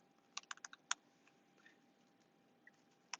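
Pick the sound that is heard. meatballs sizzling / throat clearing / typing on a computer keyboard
typing on a computer keyboard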